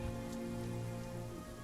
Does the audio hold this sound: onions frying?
no